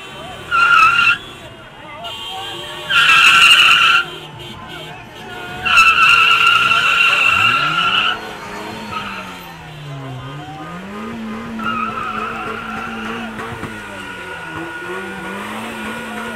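Car tires squealing in several loud skids, three sharp bursts followed by a longer drawn-out screech and a fainter later squeal, with an engine revving and a voice shouting in between.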